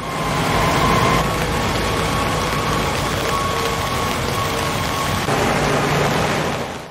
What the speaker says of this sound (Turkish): Adıyaman'da dün geceden itibaren etkili olan yağmur hayatı olumsuz etkiledi.